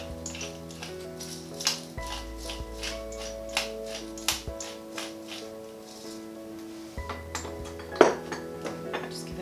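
A spoon stirs vegan paella rice in a pan, making light scattered clinks and taps against the metal, with one sharper, louder knock near the end under a steady low hum.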